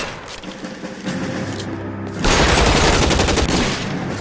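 Gunfire in the LA Noire video game breaks out midway as a loud, dense burst of rapid shots. It keeps going to the end over a busy mechanical background.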